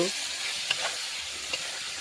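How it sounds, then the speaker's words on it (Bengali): Spice-masala-coated chicken sizzling and frying in a pan, a steady hiss with a couple of sharp pops and faint stirring clatter, close and continuous. "সেই মশলা জড়ানো মাংস ভালো করে বয়েল করে দিচ্ছি"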